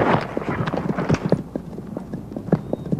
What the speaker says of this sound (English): Matt, take the reins, walk these horses.